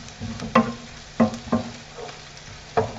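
Bacon and chunky baby oyster mushrooms frying in a pan, a low steady sizzle broken by a handful of sharp stirring scrapes and clacks at irregular moments, close and fairly quiet.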